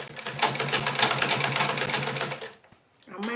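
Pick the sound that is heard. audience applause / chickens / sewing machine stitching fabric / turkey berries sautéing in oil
sewing machine stitching fabric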